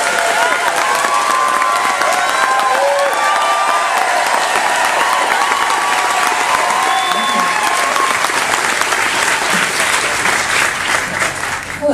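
Loud, sustained applause from a concert audience at the first Red Team show, steady clapping with cheering and crowd noise throughout.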